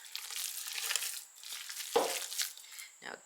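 A meatloaf mixture with half a cup of peppers, salt and pepper is mixed by hand, giving close, wet squelching and crinkly rustling bursts that rise and fall in uneven strokes, with a louder squish near the end.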